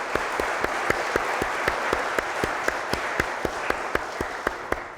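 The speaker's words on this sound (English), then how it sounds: "So please join me in giving him a round of applause." A conference audience at a private sector summit applauds in a dense, sustained wash of claps with sharper individual hand claps standing out at a steady pace, fairly loud and continuous for several seconds, with no speech.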